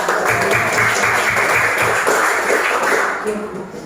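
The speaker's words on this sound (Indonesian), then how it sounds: "Kita tepuk tangan dulu untuk kelompok 2." A classroom claps for group 2 after their discussion answers, a moderately loud burst of many hands that tapers off toward the end, with voices mixed underneath.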